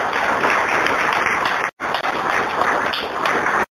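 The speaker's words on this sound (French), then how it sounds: "Je vous demande de l'applaudir." A crowd at a police retirement ceremony claps steadily in honour of a former police officer, with dense, loud applause that cuts out for a split second near the middle before resuming.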